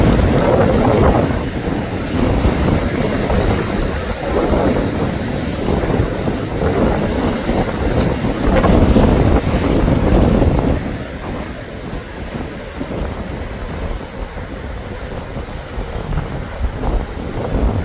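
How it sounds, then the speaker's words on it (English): Rough, stormy sea churning at Lyme Regis beach with heavy wind buffeting the microphone, a loud roaring wash that eases slightly partway through but keeps rumbling. "you can see the waves driving right over that sea"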